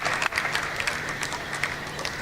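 Tennis crowd at the Mumbai Open WTA 125 event applauding a won point, a brief burst of dense clapping with a few scattered louder claps, fairly close and steady.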